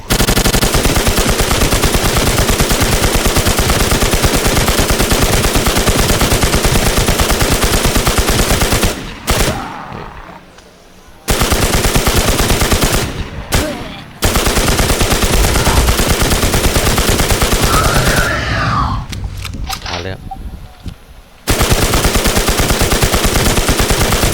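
Loud, sustained automatic gunfire from a boss fight in the survival shooter WarZ, dense rapid bursts running nearly nonstop with a few brief pauses where the firing drops out before resuming at full intensity.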